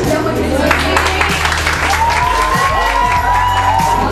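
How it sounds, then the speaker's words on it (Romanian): Audience applause and cheering at a school radio station inauguration, a dense sustained wash of clapping and crowd noise with voices and a low hum underneath. "Aplauze!"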